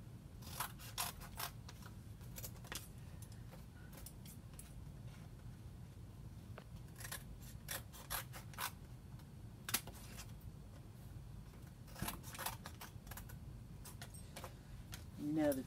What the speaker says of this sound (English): I'm going to cut some shapes like this.